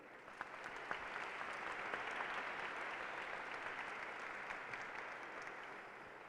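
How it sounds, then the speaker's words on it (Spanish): Steady, even applause from a seated audience at a science, economy and wellbeing panel held in Mexico, filling the room at moderate distance without voices on top. "Un fuerte aplauso para Silvia."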